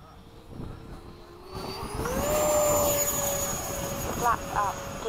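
Hawk jet trainer performing a touch and go, its engine whine rising steadily in pitch and loudness as power comes up, heard from nearby with brief chirps and clicks late on.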